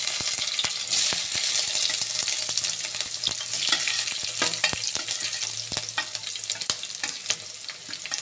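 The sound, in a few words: crushed ingredients frying with mustard seeds in pan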